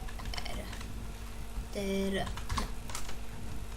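Fast keystrokes on a computer keyboard entering a chat command in GTA San Andreas multiplayer, a busy run of clicks over steady game background noise, with a brief in-game beep partway through.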